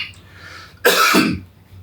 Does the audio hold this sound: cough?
yes